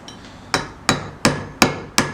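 Five sharp, evenly spaced hammer blows on a steel chisel cutting into stone, each a bright close crack that decays quickly, with no talking.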